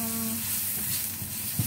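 Food sauteing in a pan on the stove until browned, a steady soft sizzle with a few light stirring clicks, close up and without talk, in a home kitchen cooking papaya tinola.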